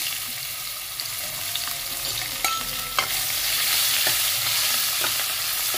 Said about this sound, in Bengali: ওই তেলের মধ্যে আমি জিরে ফোড়ন দিচ্ছি, তেজপাতা আর কুচনো পেঁয়াজ।